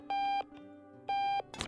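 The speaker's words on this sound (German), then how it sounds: "Scheiß Wecker, halt die Klappe." An alarm clock in the Octodad: Dadliest Catch video game beeps twice in loud, even electronic bursts with a pause between, then a short clattering knock follows.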